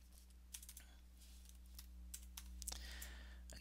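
Computer keyboard keys tapped in short, scattered bursts, faint and close against a steady low electrical hum, while a date and time field is filled in.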